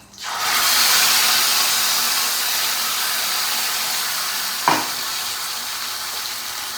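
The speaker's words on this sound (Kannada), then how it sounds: "ಟೊಮೆಟೊ ಹಸಿಮೆಣ್ಸಿನ್ಗೆ ರುಬ್ಬಿದ್ನಲ್ಲ ಅದನ್ನ ಹಾಕೊಳ್ಳೋಣ" Ground tomato and green chili paste hits a hot pan with a sudden loud sizzle that settles into a steady, bright frying hiss, broken by one brief clink of a stirring utensil.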